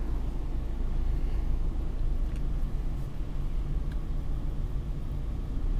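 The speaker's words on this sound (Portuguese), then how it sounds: "Então vamos dar uma voltinha aí com o carro na cidade" A Peugeot 208 with a 1.6 engine and automatic gearbox drives through city streets, heard from inside as a steady low engine and road rumble with faint hiss and no talking.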